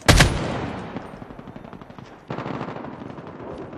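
Call of Duty gameplay delivers a loud opening gunshot followed by rapid machine-gun bursts that trail off, then a second sustained volley of automatic fire, close and sharp.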